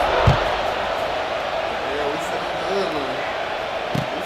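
Stadium crowd in the EA College Football 26 video game, a broad continuous roar of cheering fans during a kickoff, with occasional thumps and a commentator talking over it.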